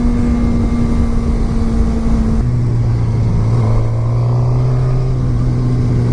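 A 2016 Suzuki GSX-R600 sport motorcycle pulling hard in second gear, its engine a loud steady drone that drops in pitch mid-clip and then climbs again, with heavy wind rush throughout.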